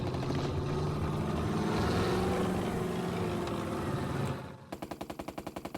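Gunfire in the turn-based tactics game Burden: a sustained loud roar of shooting with a droning engine-like tone, cutting into a rapid, evenly spaced burst of machine-gun shots at the end.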